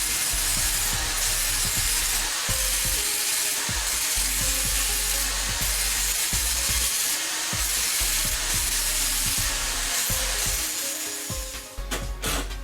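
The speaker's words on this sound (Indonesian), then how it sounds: "Lanjut ke proses pembersihan pakai gerinda atau gerinda ampas bisa." An angle grinder smooths and cleans HPL plywood for a children's wooden slide, a loud continuous abrasive grinding with rhythmic dips as the tool is pushed and pulled across the panel, nearby and alone without speech.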